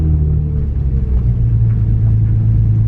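Idling engine of a Nissan 350Z Nismo being pulled off gently by a learner driver, a steady low rumble, close and loud, running continuously with no talk over it.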